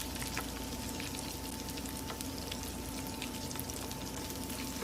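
Breaded oysters deep-frying in hot oil, a dense, steady crackling sizzle that holds evenly throughout with no pauses, close and moderately loud, with no voices.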